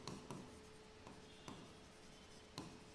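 Pen or marker writing on a surface while an array example is written out, faint scratchy strokes with a few sharp taps at irregular intervals, quiet and close with no talk.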